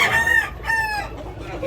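A bullstag rooster for sale at a market in Tabunok, Talisay, Cebu crows nearby, a clear drawn-out call that rises and falls over faint background noise.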